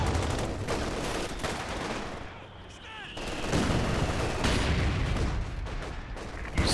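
An artillery barrage in Company of Heroes 2 during a 2v2 match: dense, continuous booms and gunfire rumble loudly throughout, easing briefly in the middle before swelling again.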